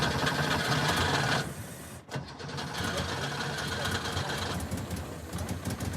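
Old exhibition car's engine being cranked and catching, a mechanical whirring that cuts out briefly, then settles into a steady running idle up close.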